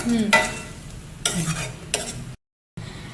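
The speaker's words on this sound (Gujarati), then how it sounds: "હવે ટામેટાને ચડવા ચડવા દો." Tomatoes and masala cooking in oil in a pan for a cashew dish, heard as a soft sizzle broken by several scraping stirs of a spoon, then a brief silent cut before the sizzling resumes.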